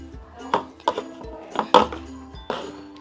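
A favourite spoon knocking and clinking against a container of slime, five or six distinct taps spread unevenly over a few seconds, close and fairly crisp with no talking.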